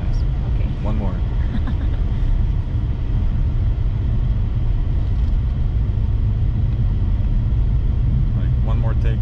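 A Shelby GT350 Track Pack pulls away in first gear with a steady low engine rumble and drivetrain drone, while people talk briefly inside the car over it.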